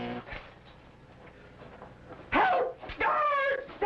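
A small dog barks and yips twice in quick bursts near the end, loud and close, after a quieter stretch of faint background sound in an old adventure serial scene.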